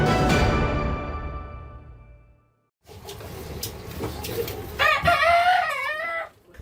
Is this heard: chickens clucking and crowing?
yes